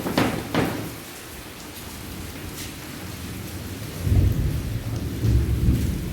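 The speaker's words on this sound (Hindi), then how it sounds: "बहुत तेज़ बारिश हो रही है" Heavy downpour with thunder: a dense wash of loud rain, low thunder rumbles rolling in and swelling near the end, no voices.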